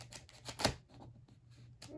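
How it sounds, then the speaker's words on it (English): Playing cards shuffled face to face during a magic trick demonstration give a quick, faint riffle of crisp snapping clicks, with one sharper slap in the middle. "now I'm gonna shuffle these face to face, so together"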